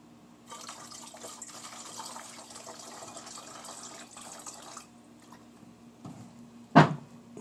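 Phytoplankton culture poured into a container makes a steady, soft liquid rush for several seconds, then goes quiet before a single sharp knock.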